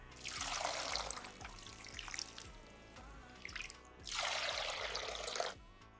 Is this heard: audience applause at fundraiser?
no